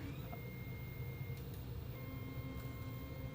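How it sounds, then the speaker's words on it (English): A 3D printer hums quietly as its probe moves across the build plate during calibration. The steady motor drone carries faint sustained tones and a few soft ticks. "the printer goes around using the probe and measures various points across the build plate to determine the height"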